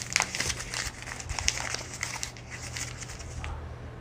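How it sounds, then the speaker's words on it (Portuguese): A sheet of paper is crumpled by hand in a classroom-style demonstration, giving a few seconds of continuous crinkling and crackling close to the microphone over a low steady hum, with no talk. "Depois você vai pedir para que o aluno amasse uma dessas duas folhas"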